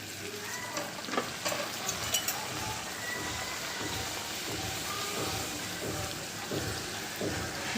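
Luchi, puffed Bengali fried bread, sizzling steadily in hot oil in a home kitchen, a dense continuous crackle and hiss with small pops, close and fairly quiet, with no talking.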